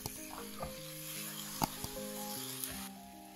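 Eggplant burger slices topped with Emmental cheese brown in a frying pan, giving a faint sizzle with a few light pops and scrapes beneath quiet background music.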